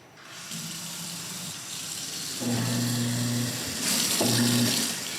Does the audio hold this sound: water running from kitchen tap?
yes